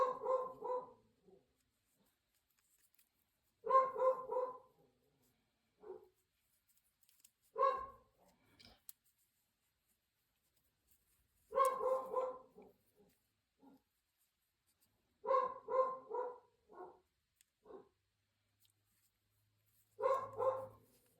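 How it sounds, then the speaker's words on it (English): A dog barks indoors in short clustered bursts, repeating about six times over twenty seconds with quiet gaps between, fairly clear and close. "my dog's got a lot to say"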